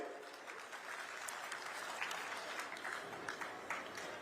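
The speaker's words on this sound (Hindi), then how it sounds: "और एक बार आप मन ताली बजाओ भाई।" Applause from a crowd at a Chhattisgarh farmers' rally, a steady patter of clapping held at an even, moderate level throughout, with a few sharper claps standing out.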